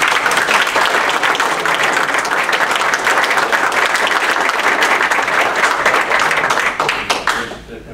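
An audience breaks into loud, sustained applause, a thick wash of clapping that holds steady for several seconds, then tapers off at the end.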